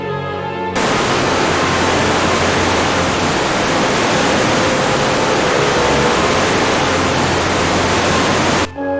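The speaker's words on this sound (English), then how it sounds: "Waterfall." Waterfall effect from the Hunter video game: a steady, loud, broadband rushing roar of falling water that starts abruptly and holds evenly for about eight seconds before cutting off.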